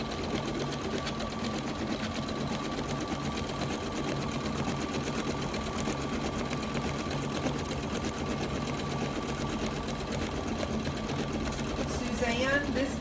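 An embroidery machine stitches a monogram onto a towel in a continuous, even whirring drone with a fast rhythmic needle tick running throughout, close and steady.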